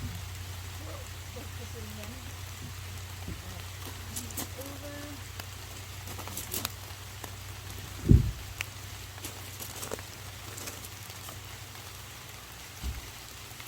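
Steady rain patters on leaves outside a porch at a rental house, a soft continuous hiss with a few scattered knocks and a sharp tap, fairly faint throughout with no one speaking over it.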